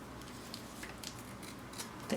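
Scissors snipping through washi tape during a planner-decorating session, a few faint, soft clips and rustles close by, with no one talking.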